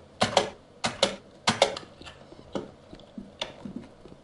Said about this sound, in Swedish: för ditt tangentbord låter för jävligt.